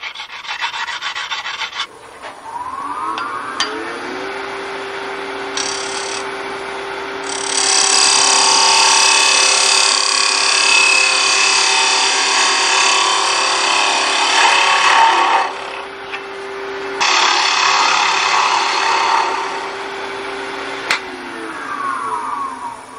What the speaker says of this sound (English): So I'm just going to touch up the edge here with a diamond hone.